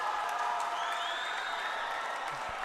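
A football crowd at a Copa Paulino Alcantara semifinal cheers and applauds steadily after the first goal of the match, a dense, continuous roar of distant voices and clapping with no pauses.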